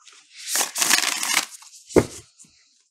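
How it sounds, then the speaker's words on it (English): An oracle card deck with thick, coated cardstock is shuffled by hand in a close, crisp burst of papery riffling lasting about a second, then a short sharp tap as the cards settle. "I want to see how this shuffles"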